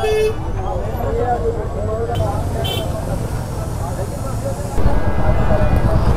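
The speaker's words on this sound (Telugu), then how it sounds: "ఘోరం ట్రాఫిక్ అయింది అసలు" Heavy road traffic on an Independence Day ride, with vehicle horns tooting repeatedly over a constant engine rumble close by, while people talk over it.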